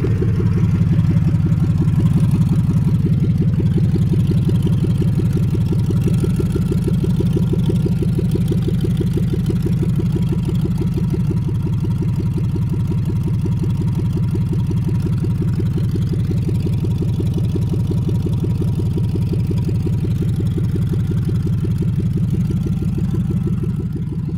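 A car engine idles steadily with the exhaust running, a close, loud, even low rumble with a faint mechanical clatter that holds without revving for the whole stretch.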